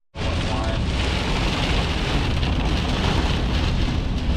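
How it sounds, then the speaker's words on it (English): Heavy rain pours down outdoors after a destructive storm that wrecked a house and flipped trucks, a dense, unbroken roar of rainfall that starts abruptly and stays loud and steady throughout. "And the rain's coming down hard again right now, as you can see."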